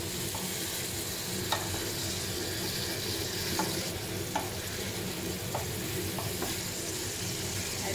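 Tofu pieces stir-frying in a hot pan for a celery and tofu stir fry, a steady, close, loud sizzle running throughout with occasional light clicks of a utensil.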